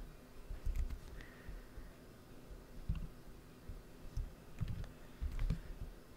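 Computer keyboard typing comes in scattered quiet bursts of clicky keystrokes, with short pauses between runs of taps.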